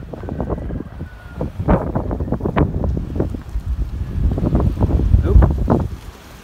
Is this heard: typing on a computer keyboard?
no